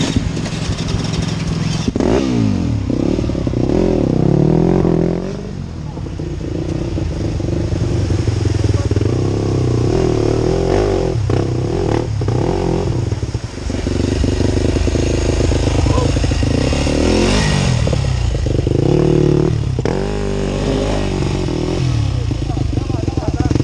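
An off-road motorcycle on a trail ride, its engine loud and close, revving up and down in repeated surges while riders talk over it.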